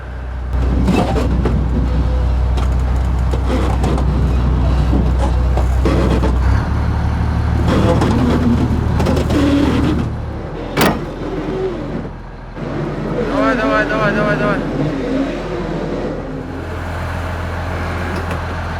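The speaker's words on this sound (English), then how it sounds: "Bring on the bulldozer." A heavy bulldozer rumbles as it is driven onto the back of a transport truck, a loud, low, steady diesel drone with shifting engine load, clanks and a sharp hiss partway through.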